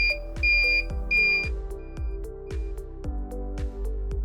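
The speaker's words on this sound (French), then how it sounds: "La porte s'ouvre, la ventouse envoie un signal au déclencheur et fait sonner le buzzer." A loud electronic door alarm buzzer, set off as the door opens, sounds in a series of short, bright tonal beeps with sustained pitched notes, repeating rhythmically up close.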